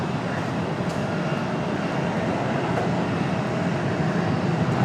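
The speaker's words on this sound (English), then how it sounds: "Looks like we got a Delta CRJ." A Delta CRJ regional jet at Raleigh-Durham International Airport gives a steady, loud broadband roar that holds evenly through the clip with no talking.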